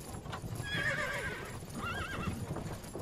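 Horse in the game Myth of Empires gives a loud, wavering whinny, then a second neigh, over steady clip-clopping hooves close by.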